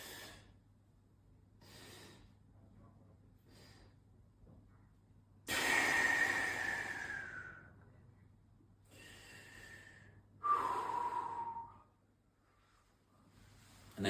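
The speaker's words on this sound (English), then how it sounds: "And again, 3 breaths. That was 4. The 3-stage breath." Breath sounds from a three-stage breathing exercise during a twisting fascia movement routine: several short quiet inhales followed by two louder, longer rushing exhales, close and alone with no talk.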